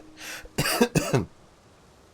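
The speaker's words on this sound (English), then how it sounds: "I got my coughing fit out just before I hit the start recording button, but it's not quite done yet." A man coughs in a short, harsh fit of about three close, loud bursts with some throat rasp, alone without talk.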